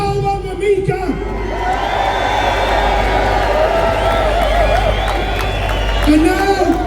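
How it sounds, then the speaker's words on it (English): A large crowd at an outdoor rally cheers, whoops and shouts in a loud sustained roar for several seconds, with a voice over a loudspeaker carrying through the noise. "Let's have a massive cheer for Salwan Mamika."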